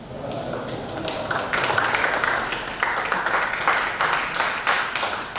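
A lecture hall audience applauds a visiting guest lecturer at a university postdoctoral program, a steady, dense wash of many hands clapping that holds at an even level throughout.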